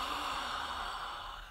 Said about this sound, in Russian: давайте мы сначала попробуем с вами выдохнуть